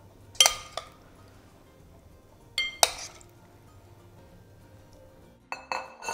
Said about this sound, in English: Just spoon the strawberries